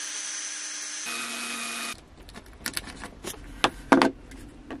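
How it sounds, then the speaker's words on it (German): A small hole drilled in a Sprinter camper van during a diesel heater install: a steady high whine for about two seconds that steps up in pitch, then stops, followed by scattered clicks and knocks of handling nearby. "Und dann brauche ich aber ein ganz kleines Loch bohren."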